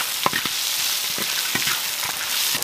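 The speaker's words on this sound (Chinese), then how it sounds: "起锅倒油， 放葱姜，还有一些佐料， 煸炒一下，" Scallion, ginger and seasonings are stir-fried in hot oil in a wok, a bright steady sizzle with quick spatula scrapes and taps, loud and close with no voices.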